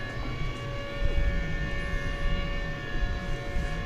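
A jet airliner departing from the west side of DFW Airport at night, its engine roar steady and moderately distant, a continuous broadband rumble with faint tonal whine and no talking.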